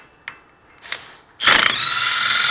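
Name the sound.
impact gun removing bolt from Toyota rear wheel bearing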